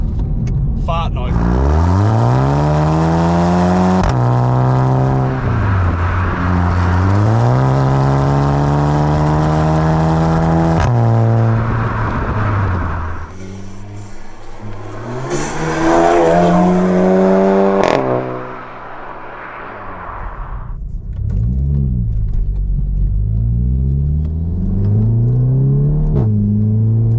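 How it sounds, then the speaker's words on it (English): A Golf GTI MK7.5 fitted with a Remus exhaust accelerates hard through the gears, its engine note climbing and dropping repeatedly in loud, close revving sweeps with a brief easing midway, heard from inside the moving car. "That Remus exhaust sounds so good."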